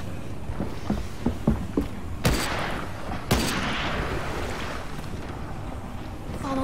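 Gunfire in The Walking Dead: The Final Season game, a few sharp distant shots early, then two loud cracks, followed by a rushing windy wash, with no talking.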